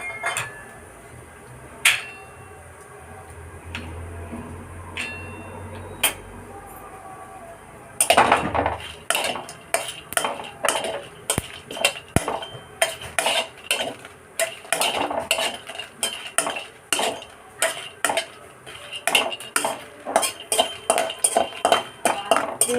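Whole spices such as dried red chillies, star anise and mace dry-roasting in a pan, stirred with a utensil that clinks and scrapes in a quick repeated rhythm after a quieter start, close by.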